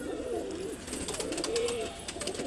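Hamidiya checker pigeons at a home loft give soft, repeated throaty coos, close and moderately loud, over a continuous background hiss.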